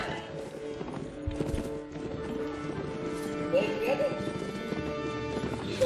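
Horses in a video game, clip-clop hooves and a high neigh over game music and effects, with people talking over the sounds throughout.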